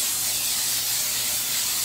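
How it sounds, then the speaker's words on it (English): Cooking spray hisses steadily onto a foil-lined sheet pan, one continuous loud close spray lasting under two seconds with no talk. "you spray the foil"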